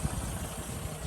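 A 1954 Mercedes-Benz 220 Cabrio engine idling smoothly, heard as a steady low rumble that is close and even, with no change in pitch across the brief moment.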